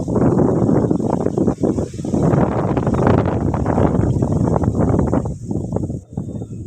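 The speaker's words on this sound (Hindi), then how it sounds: "काफ़ी तेज़ हवा" Gusty wind rumbles and buffets the microphone loudly during a rainstorm over wheat fields, easing briefly in a couple of spots before surging again.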